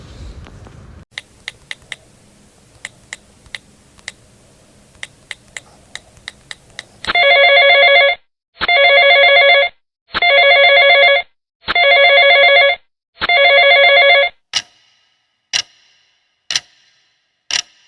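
A telephone rings in five long electronic bursts, loud and close, each about a second with short gaps, preceded by faint ticking clicks and followed by a few sharp clicks, with no talking.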